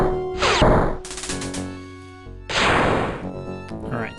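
Starship weapons fire in the space strategy game Master of Orion, with bursts of crackling, crashing blasts and rapid electronic zaps in two main volleys, loud and close, with no voices.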